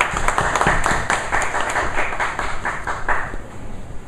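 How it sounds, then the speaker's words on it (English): An audience at a public speaking club session claps steadily for several seconds, a dense patter of many hands that fades slightly toward the end. "he deserves a bigger round of applause"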